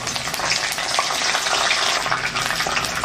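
Curry leaves hit hot oil in a pan for a Chettinad fish curry tempering, a steady loud crackling sizzle with sharp pops throughout, close and unbroken by any talk.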